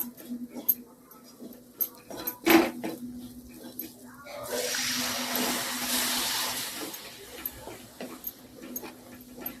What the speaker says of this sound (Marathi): तर आता यामध्ये आपण पाणी टाकून घेऊया